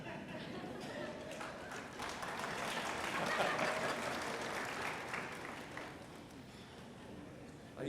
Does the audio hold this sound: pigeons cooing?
no